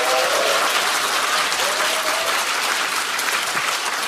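Dense, loud, continuous applause from a large audience at a Korean political event, a thick wash of many hands clapping with no voices over it.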